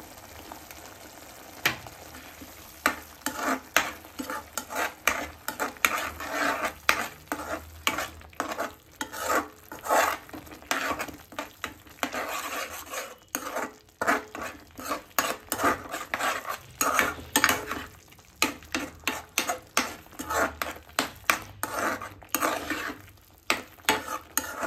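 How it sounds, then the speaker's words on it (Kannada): Ground cashew paste being stirred into chilli paneer gravy in a pan: repeated scraping and clinking strokes of a spoon against the pan over a soft, steady sizzle, close and moderately loud, with no talk. "ಆ್ಯಂಡ್ ನೆಕ್ಸ್ಟ್ ನಾನು ಇವಾಗ ಗೋಡಂಬಿದು ಗ್ರೈಂಡ್ ಮಾಡ್ಕೊಂಡಿರೋದು ಹಾಕ್ತಾಯಿದ್ದೀನಿ"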